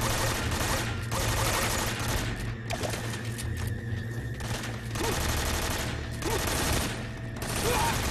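Sustained gunfire in Metal Gear Solid 3: Snake Eater, dense bursts of shots rattling continuously over a low game soundtrack, loud and close throughout.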